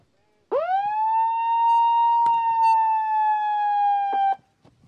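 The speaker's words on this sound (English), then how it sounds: "That siren signaling the start of quarterfinal heat number 4." A single loud siren blast signaling the start of a quarterfinal heat at a junior competition at Nahoon rises quickly and holds one steady tone for about four seconds before cutting off, with faint clatter around it.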